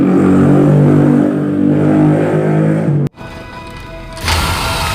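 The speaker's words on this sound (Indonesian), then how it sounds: "Motor berisik" A loud motorbike engine drones and revs close by, cuts out abruptly for a moment, then roars back up.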